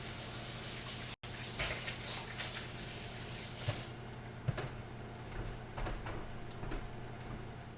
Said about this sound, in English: I'm gonna give my hands a quick wash